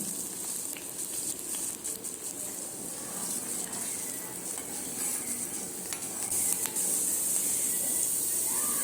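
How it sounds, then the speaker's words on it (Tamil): Ginger sautéing in hot ghee with a little groundnut oil in a kadai for Tamil venpongal, a close steady sizzle and hiss with scraping stirs of a spoon against the pan, alone without talk. "நெய் சூடானதும் இஞ்சி சேர்த்து வதக்கலாம்."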